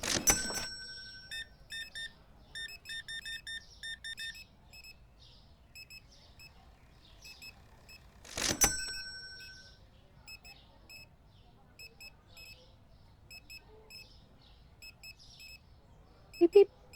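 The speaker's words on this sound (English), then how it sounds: "Beep, beep, beep, beep, beep, beep." Checkout scanner in the Supermarket Simulator video game beeps in quick clustered runs of short electronic tones, with two louder bursts of noise between them and a few faint thumps near the end.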